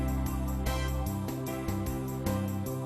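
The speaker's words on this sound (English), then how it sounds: "So you hear those trumpets come in?" Organ-style backing chords with brass trumpet lines entering over a steady beat, played at a moderate, somewhat distant level.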